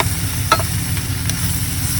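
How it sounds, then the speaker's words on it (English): Tomatoes frying in a pan at a campsite, a steady close sizzle with a couple of brief stirring scrapes. "we're gonna fry this off for a second"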